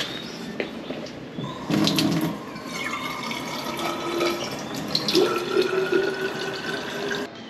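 Tap water runs steadily into a bottle at an airport, a continuous splashing hiss with a rising fill tone, set against faint terminal background noise.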